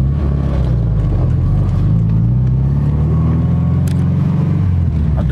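A Honda Civic with a built engine block revs and pulls while driving, a loud, close engine drone rising and falling steadily with no talking.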